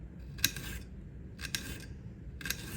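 A knife slices a watermelon into thin pieces, making three crisp, evenly spaced cutting strokes at close range against a quiet background.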